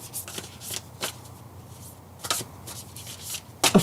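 Deck of affirmation cards being shuffled by hand, with several quick riffling bursts of papery flutter separated by short pauses, close and moderately quiet, with no talking.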